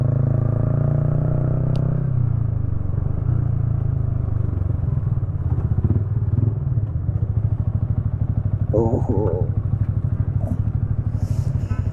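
A Yamaha R15 V3 motorcycle on a highway ride gives a steady, close engine drone throughout, with brief clatters and a short squeal near the end.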